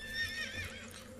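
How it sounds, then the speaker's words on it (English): The horse in the Shadow of the Colossus video game gives a clear, high whinnying neigh that tapers off, with a faint hoof clatter beneath it. "Like, that is a beautiful horse."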